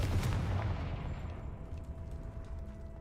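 Confringo blast spell cast in the Hogwarts Legacy video game: a single loud booming burst at the start, fading into a rumbling tail and low hum.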